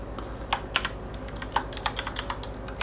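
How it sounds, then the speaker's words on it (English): Close typing on a computer keyboard, irregular quick key clicks in short uneven runs with brief pauses between them, no voices. "So if I type in here"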